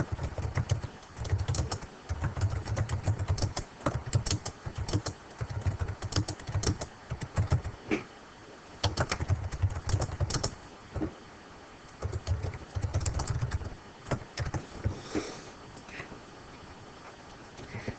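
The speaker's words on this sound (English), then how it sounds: "let me type that" Computer keyboard typing comes in clustered bursts of clicks with short pauses between them, recorded close and heard alone with no talking.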